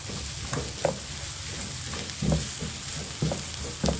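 Garlic and ginger sizzle steadily in a hot pan, a close, continuous frying hiss broken by a few soft knocks of stirring.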